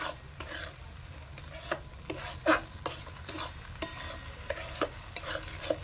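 A spoon stirs masala for paneer in a hot pan, with regular scraping and clinking strikes against the metal over a soft continuous sizzle of frying, close and fairly quiet.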